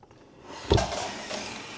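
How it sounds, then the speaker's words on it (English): Foot pedal of a Singer Heavy Duty sewing machine scraping along the floor, one rough sliding scrape, close and moderately loud, followed by a low shuffling rub that trails off. "that is the sound of my foot pedals scraping down the bottom."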